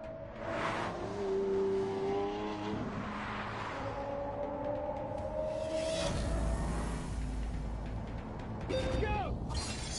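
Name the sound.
hybrid supercar engine in The Grand Tour video game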